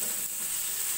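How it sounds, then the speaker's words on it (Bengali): Sweet pumpkin fries in hot oil with green chili, black cumin, onion and garlic, giving a brief, steady hiss of sizzling with no voices. "এই যে আমি যেভাবে ভাজছি"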